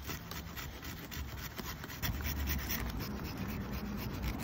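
A jigsaw blade fitted to a Leatherman Rev saws through inch-thick wet wood, making a rough back-and-forth rasping that grows louder midway, close up and without talk.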